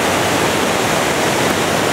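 Steady, dense roar of a waterfall in a canyon, close and loud, filling the whole clip without a break and with no voices.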